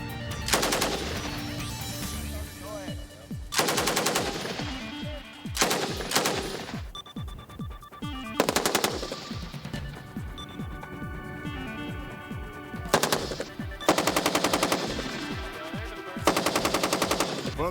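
Bursts of automatic fire from a Bradley fighting vehicle's machine gun during troop training, several loud, rapid rattling volleys separated by short pauses, with echoes trailing off between bursts.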